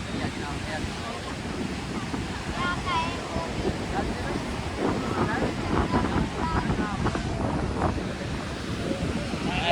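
Sea waves washing onto the beach at Madhavpur, a continuous rough wash with gusty wind buffeting the microphone, voices chatting on and off nearby.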